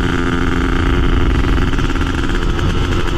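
A Kawasaki Ninja RR motorcycle engine idles steadily nearby with a loud, continuous low rumble and a fast, even throb, with no talking over it.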